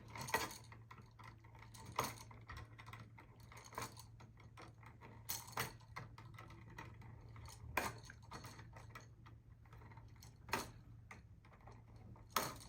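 Steel needle-nose pliers twisting electrical wires together while moving an outlet, giving faint metallic clicks and ticks at irregular intervals over a steady low hum, close and quiet with no talking.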